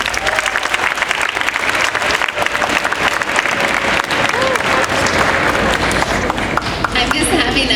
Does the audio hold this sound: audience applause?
yes